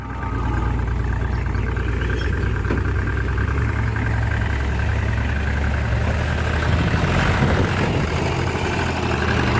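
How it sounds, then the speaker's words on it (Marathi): A tractor engine idles steadily at close range, a continuous low rumbling drone that holds constant throughout with no other sounds standing out. "आपण ट्रॅक्टर बाहेर काढलेला आहे"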